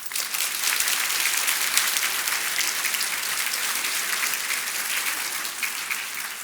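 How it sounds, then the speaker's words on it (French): An audience at a Master's graduation ceremony applauds the absent graduates, producing a dense, even, continuous wash of many hands clapping with no single claps standing out. "On peut les applaudir quand même."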